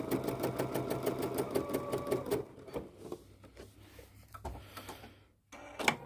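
A sewing machine with a piping foot stitches piping for a quilt in a fast, rhythmic run of needle clatter, then stops. Scattered clicks and handling noises follow as the fabric is adjusted.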